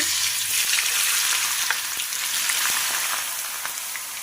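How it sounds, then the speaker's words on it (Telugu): Food fries in hot oil in a pan until golden, a dense continuous crackling sizzle with occasional sharper pops, close and steady throughout. "ఇలా నూనెలో అయితే వేసేసుకొని బాగా గోల్డెన్ కలర్ వచ్చేంత వరకు వేయించుకుంటున్నానండి."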